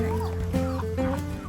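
A chicken clucks in short repeated calls amid a steady low hum of household background, with faint voices nearby.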